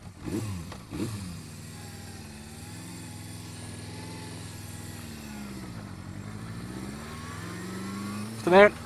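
A Honda CB550 motorcycle engine drones steadily at moderate volume during a ride, with a couple of louder bursts at the start and near the end.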